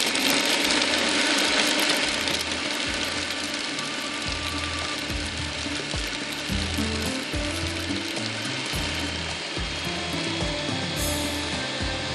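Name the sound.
grinding onion, garlic and spices in a mixer grinder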